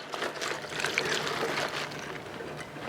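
Salt water poured over napa cabbage for a small batch of mak kimchi, a soft continuous trickle and splash with faint shuffling, quiet and close.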